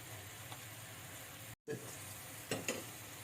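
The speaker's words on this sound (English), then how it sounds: "So just keep on stirring the shrimps and checking." Shrimps with garlic and lemon frying in a pan over high heat give a continuous quiet sizzle, broken by a brief dropout and a couple of louder stirring scrapes near the end.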